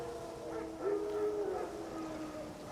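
Wild dogs howl in the distance in The Witcher 3, a single drawn-out, wavering wail rising out of faint ambient game sound and fading away.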